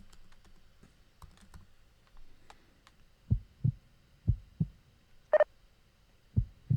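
Library heartbeat sound effect: paired low thumps repeating in a steady lub-dub rhythm, close and clean, after a few soft clicks of keyboard typing at the start.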